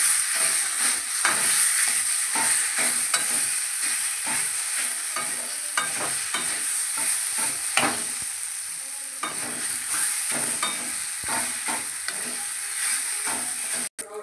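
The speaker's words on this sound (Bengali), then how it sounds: "এটা দিয়ে আমি সিদ্ধ করা আলুটা কুচানো আছে সেটাকে আমি দিয়ে নাড়াচাড়া দেব" Boiled, chopped potato filling with chopped green chilli being stirred in a pan, a continuous frying hiss broken by repeated scraping strokes of a spoon, fairly close and without speech.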